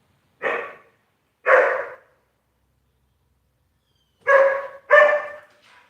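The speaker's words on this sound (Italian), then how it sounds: "Ecco qua che i miei cani abbaiano" Dogs bark in four separate loud bursts, two early and two close together later, each clear and near against otherwise silent background.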